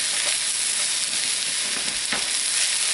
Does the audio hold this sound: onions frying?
yes